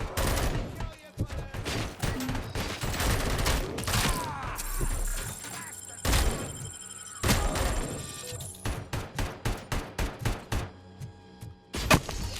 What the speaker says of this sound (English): Hey, who's shooting me? What the hell are they shooting me with?